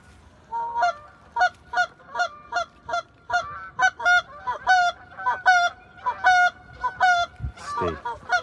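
Canada geese honk in a steady series of loud, repeated calls during a goose hunt with a Labrador, the flock sounding fairly close and continuous, with no talking.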